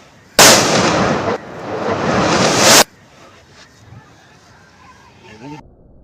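A large Lakshmi firecracker bursts for Diwali with a loud, close blast that roars on for over two seconds, then cuts off and leaves faint background noise.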